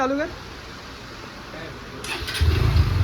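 A new motorcycle's engine cranks over after a stretch of quiet background and voices, then catches with a loud, close low rumble in the last half second.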